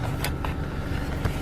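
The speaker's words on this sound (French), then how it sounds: "Le bruit que vous entendez, si vous avez un bruit de fond, c'est le chauffage dans la voiture" A car heater fan runs inside a car as a steady, soft background whoosh, with a few faint clicks or knocks over the top and no talk.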